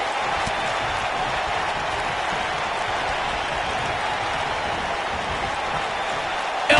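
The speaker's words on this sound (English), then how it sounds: "We've got a raucous crowd here in Philadelphia tonight" A raucous arena crowd cheers steadily at a Philadelphia wrestling show in WWE 2K19, a broad, continuous roar with no pauses.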